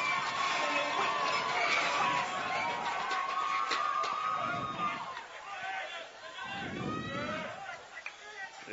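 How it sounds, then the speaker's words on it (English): A big crowd at Dalplex cheering on the Dalhousie Tigers at a university volleyball match against Laval, a broad steady roar of voices and hubbub with commentators talking over it. "a big crowd at Dalplex trying to get the Tigers going"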